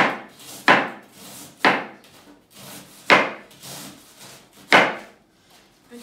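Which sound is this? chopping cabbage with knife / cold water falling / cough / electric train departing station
chopping cabbage with knife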